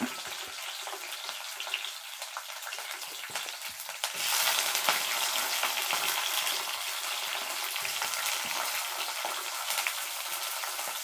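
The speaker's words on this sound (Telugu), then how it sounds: "పచ్చిమిరపకాయలు కూడా నూనెలో ఇలా వేసేస్తున్నాను" Green chilies frying in hot oil for a tomato and broad bean curry, a steady bright sizzle that swells louder about midway and keeps hissing on without talk.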